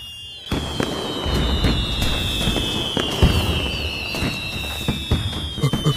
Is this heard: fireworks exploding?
yes